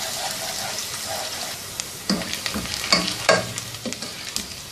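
Sliced onion frying in oil in a pan while being stirred, with a steady soft sizzle and intermittent scraping stirs growing louder toward the end.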